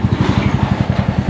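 A motorcycle engine runs close by with a steady, throbbing pulse of rapid low thumps. It holds an even rhythm and sounds loud, with no voices over it.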